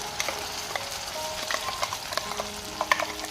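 Ground masala fries with onions in a pan for fish curry, giving a soft, steady sizzle with light scraping and stirring clicks close by.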